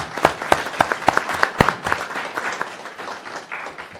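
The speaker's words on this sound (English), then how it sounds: "Another round of applause for them." People clap at a McLeod County board meeting. The claps are distinct and fairly close, strong at first, then thinning and fading over a few seconds.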